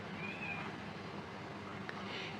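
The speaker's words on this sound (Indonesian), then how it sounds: "Ini kucingku tiba-tiba ngeong-ngeong nih" A house cat lets out one short, faint meow partway through, set against a quiet indoor room.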